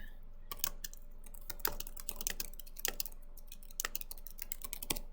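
Typing on a computer keyboard nearby, with irregular bursts of crisp key clicks and short pauses, and no voices.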